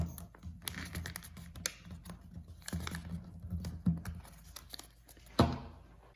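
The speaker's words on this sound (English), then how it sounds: "along the folded line, you're going to fold it up again right here" Sheets of paper being folded and creased along a fold line while making a tabletop paper football, a run of close, dry crinkles and sharp creasing snaps, with a louder crisp crunch near the end.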